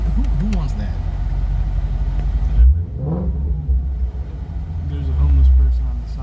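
A 2018 Ford Mustang Shelby GT350 engine revs in short bursts with a deep, rumbling exhaust while driving, heard from inside the car with people talking over it.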